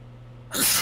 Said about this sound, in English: Bad time to have to sneeze.